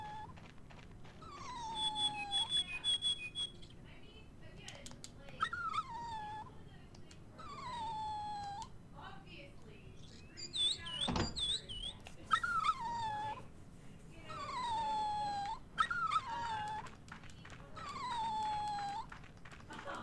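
A dog whimpers and howls inside the horror video game Rule of Rose, with a run of high, wavering cries repeating in bursts over a steady ambient backdrop, clear and fairly close.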